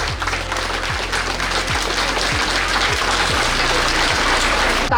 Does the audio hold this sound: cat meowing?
no